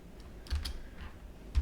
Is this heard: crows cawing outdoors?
no